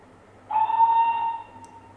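A steam whistle effect plays from a Hornby HM6000 model train sound controller as one steady, clear tone lasting about a second, rising suddenly and then fading out against a quiet background.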